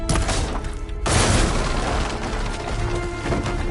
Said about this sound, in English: Shooting down that platform should smash through the wooden barricade